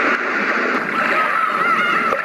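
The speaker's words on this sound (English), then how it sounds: "I think I'm pretty sure this is waves." A portable HiFi white noise sound machine plays an ocean waves setting: a steady, loud wash of hissing surf with a gentle swell, continuous and close, with no voices.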